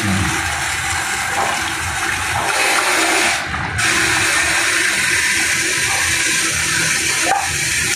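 Water from a 4-stage UV water filter pours out in a loud, steady rushing stream that continues unbroken throughout, with no voices.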